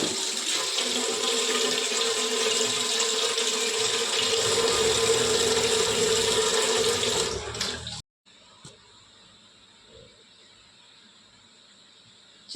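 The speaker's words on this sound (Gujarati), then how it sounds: "હવે એના માટે સૌ પહેલાં તો આપણે આમાં પાણી લઈ લઈએ।" Water pours steadily and loudly into a cooking vessel while preparing a traditional homestyle dish, running for about eight seconds before stopping abruptly, leaving a quiet room with only faint small sounds.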